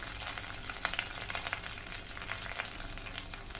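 Curry leaves and a pinch of asafoetida crackle and sizzle in hot oil, a dense, steady spitting hiss with scattered sharper pops, close and fairly loud throughout, no voices.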